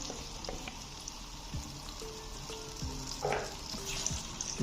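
Thin potato slices sizzle in hot oil in a pan alongside crackling cumin seeds, a steady quiet fry with scattered pops and small clicks of stirring.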